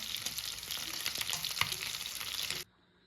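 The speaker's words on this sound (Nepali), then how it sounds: "यहाँ देख्न सक्नुहुन्छ चिकन फ्राई गर्दैछु म" Chicken pieces frying in hot, spattering oil, a dense continuous sizzle with crackling pops, steady and fairly close before cutting off abruptly near the end.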